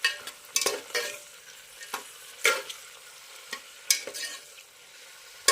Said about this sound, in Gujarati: હવે ટામેટા સાથે પણ ડુંગળીને થોડી વાર તતડવા દઈએ